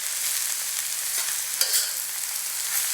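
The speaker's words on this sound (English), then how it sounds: "Toss in the mushrooms. Give the mushrooms a good mix." Oyster mushrooms stir-fried and tossed in a hot pan, giving a steady, even hiss of frying with a brief clatter of stirring partway through, close and alone without voices.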